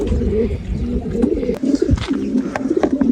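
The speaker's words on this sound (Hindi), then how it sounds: "सब के सब वाइट कबूतर" Many white pigeons cooing together in an aviary in a steady, overlapping murmur, close by, with occasional wing flutters and soft knocks.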